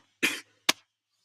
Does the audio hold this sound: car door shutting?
no